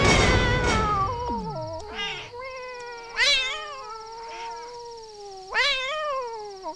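A person imitates a cat, calling out a series of wavering, pitch-gliding meows at close range, several loud calls spaced over a few seconds, with a steady high background whine throughout.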